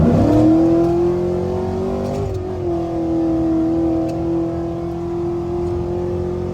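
A cammed GMC Sierra truck with an automatic transmission and 3400 stall converter accelerates on a bumpy back road in Mexico, its loud, steady engine note rising slightly in pitch and holding close and continuous throughout.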